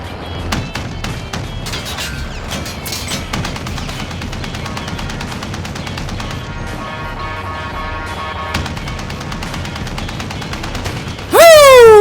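Dense gunfire in the video game Warzone, with rapid bursts and sustained automatic fire from enemies attacking an armored truck, loud and continuous, ending in a sharp rising electronic tone.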